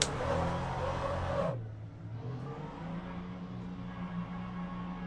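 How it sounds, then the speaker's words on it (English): An LMP3 prototype race car engine in the Le Mans Ultimate racing game, revving hard at first, then dropping to a steady, lower idle hum that lingers alone. "Sounds very similar to the other LMP3 cars"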